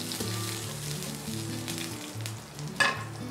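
Chicken sautés with chopped chipotle chili in a hot pan for a quesadilla, a steady close sizzle and frying crackle, with a brief stirring scrape near the end and no voices.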